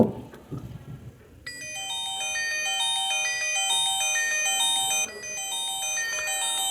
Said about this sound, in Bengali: ফোনটির রিংটোন যে সাউন্ড সেটা একটু চেক করব